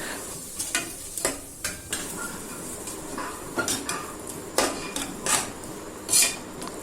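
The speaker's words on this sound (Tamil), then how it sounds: "மசாலாவும் தக்காளியும் வந்து ஒரு 10 மினிட்ஸ் வந்து நல்லா வேக விட்டு நல்லா வதக்கிங்க" Tomatoes and masala being stirred and sautéed in a pan for mutton biryani, with repeated sharp metal clinks of a spoon against the pan over a faint sizzle, close and steady with no talk.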